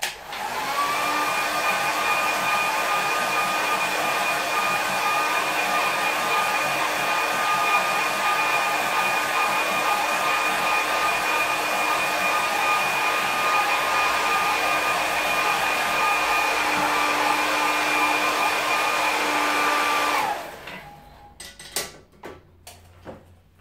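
A hair dryer blows steadily and loudly for about twenty seconds to dry a watercolour tonal sketch on paper, then switches off, leaving faint scattered handling noises.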